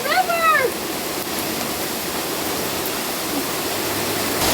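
Floodwater rushes steadily through a farm drainage canal, a broad continuous roar like a stream or waterfall that holds level throughout. A short burst of bird-like chirps comes early on, and no one speaks.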